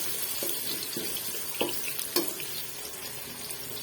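Onions sizzle softly in hot oil and ghee in a pan, cooked for sarson ka saag. Several sharper clicks and scrapes from stirring cut through the sizzle, and no voice is heard.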